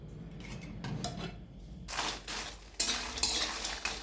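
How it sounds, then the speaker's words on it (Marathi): Byadgi chillies are roasted in a pan: quiet scraping and stirring at first, then bursts of crackling sizzle with clinks of a utensil against metal, close by and without speech. "आता आपण बेडकी मिरची पण भाजून घेणार आहोत"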